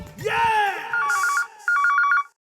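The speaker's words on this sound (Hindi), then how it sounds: "फोन उठाइए मैडम, फोन उठाइए" A telephone rings in a police outpost scene with a bright electronic trill, sounding in two or three bursts separated by short gaps. An opening voice or tone comes before it, and it is loud and close.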